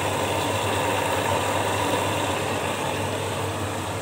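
A Beko washing machine with a dynamo motor runs with a loud, even drone and a constant low hum, close and unbroken with no voices.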